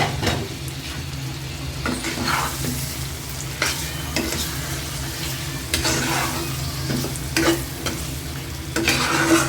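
Large prawns fry in a spiced masala with an oily sizzle, while a spoon scrapes and stirs the pan in repeated bursts over the steady crackle.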